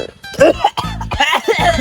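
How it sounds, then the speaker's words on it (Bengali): Several harsh coughs from burnt chili smoke in quick succession, close and loud, with breathy catches between bursts. "এই দেখেন এই দেখেন কাশি হয়ে কাশি"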